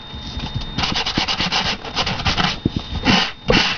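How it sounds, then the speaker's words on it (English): Close, steady rubbing of a sanding block over a surface in repeated back-and-forth strokes, a gritty scratching rhythm with no talking. "Maybe sand this a little more."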